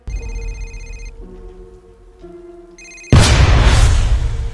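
A telephone rings loudly and electronically in a horror film scene, with repeated tonal bursts that shift pitch before a sudden loud, harsh rushing sound takes over the final second and a half.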